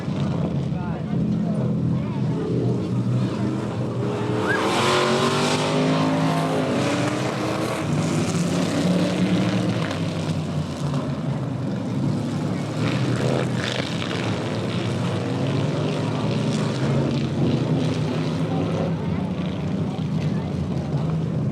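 IMCA oldtimer modified race cars racing at an exhibition event at Hastings Little Log House Pioneer Village: continuous loud engine roar passing and droning, under a commentator talking over the public address.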